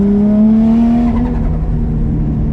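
A tuned, high-power Chaser street car's engine revs loudly and close, its tone climbing and then easing under load with no talking over it.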